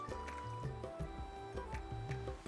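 Water is poured into amla rasam simmering in a pan with jaggery, giving quick liquid splashes and gurgles that sound close and fairly faint over a faint hum.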